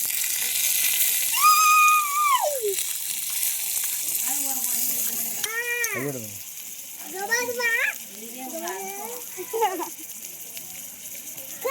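Mustard seeds sizzle in hot oil in a village kitchen, making a continuous bright hiss beneath children's lively chatter and calls.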